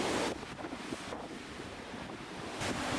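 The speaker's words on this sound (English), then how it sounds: "how windy it can be while you're out on the ocean" Strong wind roars across the open ocean on a cruise ship deck, a steady loud broadband rush with surf-like gusts swelling at the start and end, no voices.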